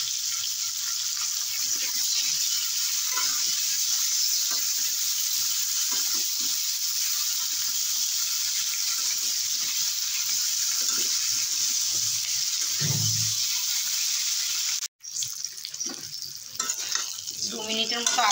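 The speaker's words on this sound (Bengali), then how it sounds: "দু মিনিটের মতো আদা জিরে বাটা দিয়ে কষিয়ে নিলাম।" Ginger-cumin paste sizzles and fries in a pan for a thin catfish curry, a steady broadband hiss with intermittent stirring scrapes, a brief pause near the end, then resumed sizzling.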